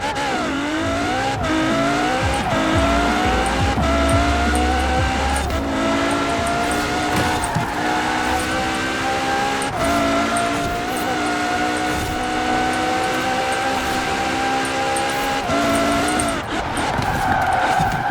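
Supercars in the Forza Horizon 4 racing game, including a Koenigsegg, a Lykan Hypersport, a Lamborghini and a Pagani Huayra, roar continuously with rising and shifting engine tones and tire squeal through corners, loud and steady throughout.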